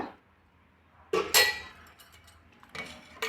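A spoon stirring custard made with boiling milk in a cooking pot, giving a few sharp metallic clinks and scrapes in short bursts with quiet pauses between them.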